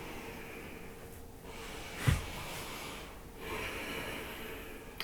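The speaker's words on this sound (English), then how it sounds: "Breathe in deeply." Slow, deep breathing during a yoga exercise for hip strength and flexibility, soft and close, with long airy inhales and exhales and one sharper snort-like breath in the middle.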